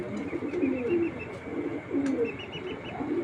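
Racing pigeons coo in a low, throaty roll, with several overlapping birds repeating soft bubbling calls near and steady, plus a faint flutter of wings in the background.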